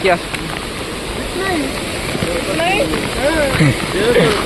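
Amboli waterfall roaring during heavy rain, a dense steady wash of falling water close by, with voices and other sounds audible over it.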